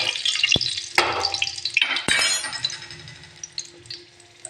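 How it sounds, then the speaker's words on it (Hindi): Whole cumin seeds stirred in hot oil in a cooking pot, with a few sharp metallic clinks of a spoon against the pot and a light crackling sizzle that fades away. "अब मैं थोड़ा सा इसको हिलाऊँगी।"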